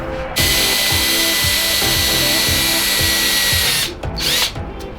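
A steady, loud power drill bores a hole in a clinched ducktail car spoiler, running continuously for several seconds before winding down with a couple of short bursts.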